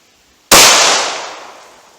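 A single loud gunshot from a Glock 41 .45 Auto handgun with a 5.3 inch barrel, fired outdoors, sharp crack followed by a decaying ring-out, close and alone.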